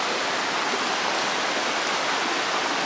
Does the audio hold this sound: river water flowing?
yes